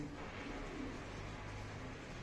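Armenian chain (zincirli) pigeons coo softly in a low, steady murmur over a continuous background hum, with no one speaking.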